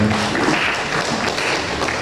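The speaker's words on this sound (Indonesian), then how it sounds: "Tepuk tangan untuk kita semua." Steady, dense applause fills a ceremony for the inauguration of a regional youth committee board in Bantul, a continuous even roar of many hands clapping with no pauses.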